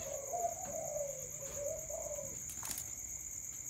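Spotted dove (Streptopelia chinensis), a young Malaysian bird, giving a soft, low cooing phrase of several wavering notes, close and clear over a steady high-pitched background hiss, with a brief rustle near the end.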